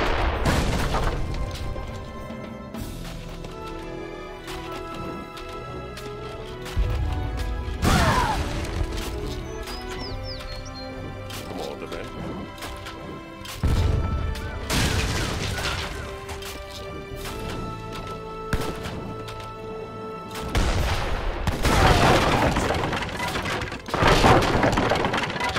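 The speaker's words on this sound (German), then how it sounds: "Mit der stationären Kanone können wir die gegnerischen Gebäude in der Nähe zerstören." A stationary cannon in Age of Empires III firing on nearby enemy buildings: repeated heavy booms and crashing impacts at irregular intervals over game music, each blast loud and sharp with debris-like crunch.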